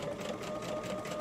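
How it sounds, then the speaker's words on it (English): A sewing machine stitching up the side seam of a fabric project, a close, steady, continuous mechanical whir with a fast rhythmic needle chatter throughout the short stretch, no talking. "So I'm just going to stitch up the side."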